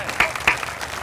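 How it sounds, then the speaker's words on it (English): Brief applause from a crowd at a rally for a K9 police dog named Thor, a few sharp claps rising over a steady murmur with voices mixed in. "So one last round of applause."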